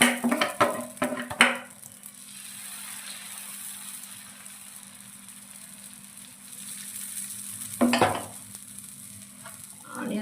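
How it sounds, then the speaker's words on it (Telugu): Pesarattu, a moong dal dosa, frying on a pan, a soft steady sizzle bracketed by clattering utensil knocks at the start and again near the end, with no speech. "కొద్దిగా చూడండి పెసరట్లు వేస్తున్నాను"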